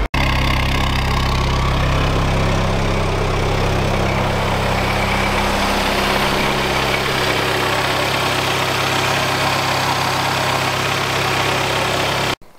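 Mk3 Golf engine idling loudly, a steady low rumbling drone with constant vibration that runs unbroken and near for about twelve seconds, then cuts off abruptly at the end, with no voices over it.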